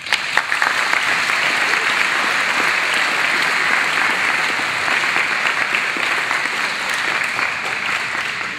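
A crowd at a high school battle-of-the-bands event claps for the winning band, loud, dense and sustained applause throughout.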